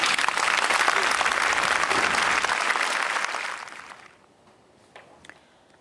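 Applause from mourners at a child's memorial gathering in Sicily, where white balloons are released; steady, full clapping for about four seconds that then stops, leaving a few scattered claps and faint background sound.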